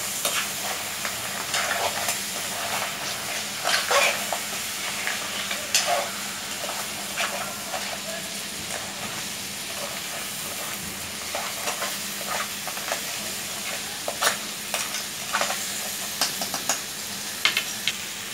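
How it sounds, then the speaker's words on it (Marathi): Crabs sauté in hot masala for a crab curry, sizzling steadily and loudly throughout, with scraping and clinking from stirring scattered over the continuous frying hiss. Nobody speaks. "खेकडे छान परतवून घ्यायचे मसाल्यामध्ये."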